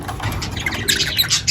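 A pair of Opaline budgerigars at a busy pet market, giving sharp squawks and chirps close by over a steady murmur of market noise.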